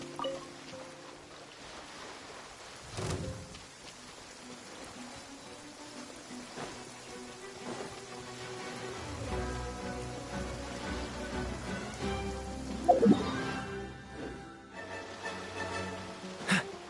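Steady rainfall in a video game, a soft continuous patter with occasional louder splashes and low rumbles, sustained throughout without speech.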